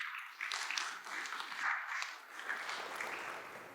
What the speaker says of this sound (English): Please welcome her with a big applause.